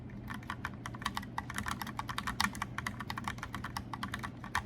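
Rapid, steady clacking of keys on a mechanical keyboard, close and crisp, with continuous irregular keystrokes and no voices.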